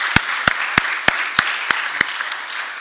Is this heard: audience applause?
yes